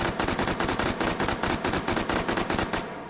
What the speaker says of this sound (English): Let's do stock out 3-round burst with the muzzle brake.